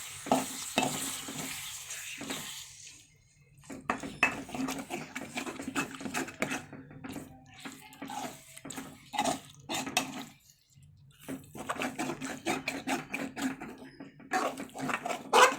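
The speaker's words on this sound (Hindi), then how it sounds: "अब इसको मैं अच्छे से प्रॉपरली मिक्स कर लूँगा" Liver (kaleji) being stirred and mixed in a pan with a utensil, repeated scraping and stirring strokes in irregular bursts with a light sizzle beneath, close by, pausing briefly a few times.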